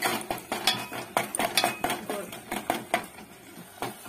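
Ginger garlic paste stirred in a pan for chicken curry, a spoon scraping and clinking against the metal in a quick, irregular rhythm, close and fairly loud, with faint voice in the background.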